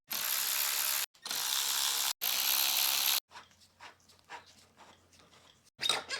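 A ratchet loosening the pinch bolts on a motorcycle fork during a WP air fork conversion: three long, loud, close runs of rapid clicking, then quieter scattered clicks and handling noise.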